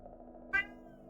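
A pet cat gives one short, clear meow midway through, against a faint background hum.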